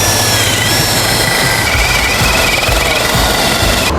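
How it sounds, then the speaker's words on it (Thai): A loud, continuous drone from a Rowel DBD160 cordless impact drill with an auger boring into fairly hard soil, a rattling, hammering edge, steady throughout and close up, cutting off abruptly at the end. "เราใส่ดอกเจาะดินแบบนี้ไว้แล้วนะครับผม มาดูกันว่าจะเจาะดินหรือเปล่า"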